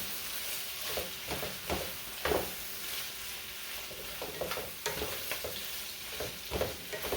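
Vegetables for a shrimp and chicken cheesesteak being stirred in a hot frying pan: a soft, continuous sizzle with irregular scraping and tapping strokes of a utensil, close by with no voices.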